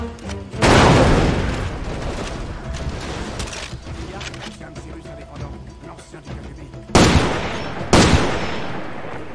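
Grenade explosion in the video game Far Cry 2: a loud, close boom opens a stretch of rumbling combat noise, followed later by two more sharp, heavy blasts.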